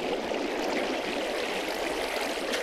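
Flowing water in Minecraft, a steady even rushing like a stream, continuous and moderately faint with no talk over it.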